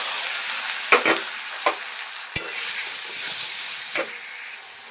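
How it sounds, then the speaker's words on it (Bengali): Spices and dried chilli powder fry in a pan with a steady loud hiss and sizzle, broken by several sharp clinks and scrapes of stirring, close up and without talk. "সব মশলাগুলো দিয়ে দিচ্ছি আমি কিন্তু এর মধ্যে শুকনো লঙ্কাও নিয়ে নিয়েছি শুকনো লঙ্কার গুঁড়ো"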